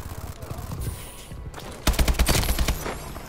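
AK-12 rifle firing in Call of Duty: Advanced Warfare, a sharp, close burst of rapid automatic shots in the second half, with brief game sounds before it.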